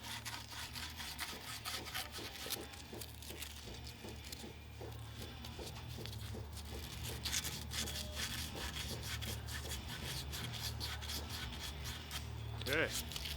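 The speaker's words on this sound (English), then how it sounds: "I like to clean the outside of the pipe pretty well, so I just take a little piece of sandpaper" A small piece of sandpaper scrubs the outside of a metal diesel fuel pipe in quick repeated strokes, a continuous rasping under a low background hum.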